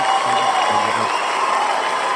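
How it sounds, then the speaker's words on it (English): A studio audience applauds on a public speaking show, a dense, steady wash of clapping with some cheering that holds evenly and close throughout. "People, give it a huge round of applause."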